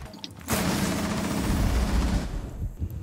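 Rapid automatic gunfire in a Rainbow Six Siege match, a sustained burst of fast, loud, close shots lasting about two seconds before breaking off, with no talking during the burst.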